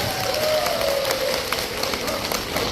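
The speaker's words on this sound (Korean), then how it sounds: "저를 불러주신 우리 선생님께 큰 박수 한 번 부탁드리겠습니다" An audience at a seniors' welfare center singing class claps together in a steady, continuous round of applause that fills the whole moment, dense and fairly close, with a voice briefly sounding over it.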